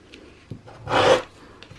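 A freshly sharpened sewing scissor blade shears through a doubled layer of fabric in one short rasping cut, a brief crisp snip standing alone.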